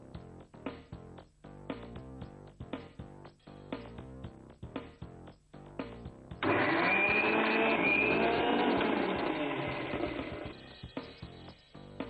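Rhythmic background music plays, then a mixer grinder pureeing tomatoes kicks in with a loud, steady whirring roar that runs for several seconds before easing off.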